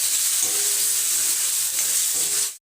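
Red chilli and coriander powder frying in a pan for an Assamese soybean curry, giving a steady, close sizzle that holds evenly throughout before stopping abruptly at the end.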